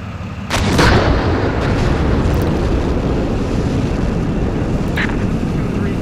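Incoming fire in the tank combat simulator Steel Beasts Pro PE, a sudden heavy blast followed by a sustained loud, low rumbling roar of explosions and engine noise, close and filling the whole stretch.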